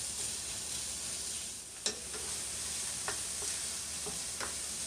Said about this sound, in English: I'm going to cook this until the sausage is brown